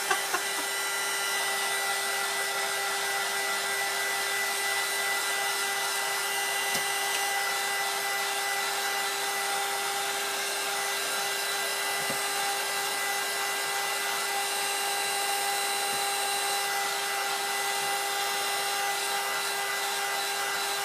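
A hair dryer runs steadily and loudly close by, blowing on a Christmas snowman craft with an unbroken whine that holds the same pitch throughout, with a few faint knocks beneath it.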